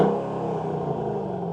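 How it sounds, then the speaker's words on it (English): Mercedes SLK55 AMG V8 engine running close by, a deep steady throaty rumble with a slight rise in pitch, alone without voices. "And come on, let's hear that V8."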